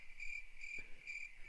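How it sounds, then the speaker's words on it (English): Crickets chirp from a looped sound recording, quiet, even pulses repeating in a steady rhythm with nothing else heard. "Just get the crickets rolling again."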